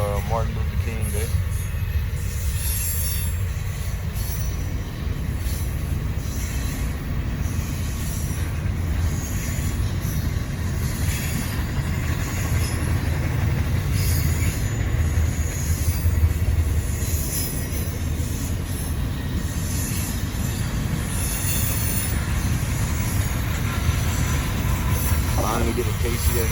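A Kansas City Southern freight train, with a KCSM distributed-power locomotive, rolls past on a Norfolk Southern line in the Charlotte District, giving a loud, steady rumble of wagons with occasional wheel squeal for the whole stretch.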